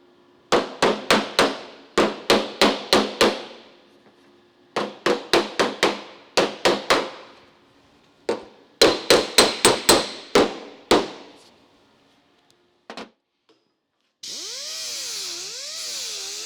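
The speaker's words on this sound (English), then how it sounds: "just tidy it up a little bit with the hammer and dolly to get the two panels sitting together" Sharp metallic hammer-and-dolly blows on rusty car door sheet metal panels in quick bursts of three to five strikes, separated by short pauses, close and loud, followed by a grinding whine.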